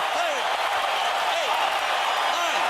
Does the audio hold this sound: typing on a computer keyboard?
no